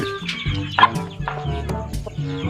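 Several chickens cluck and squawk close by in an overlapping, busy chorus, with a few sharper calls standing out.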